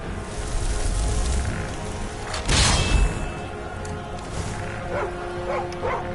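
Dog barking in Skyrim, a loud burst of barks near the middle over steady game music and ambience, followed by a few short softer yips.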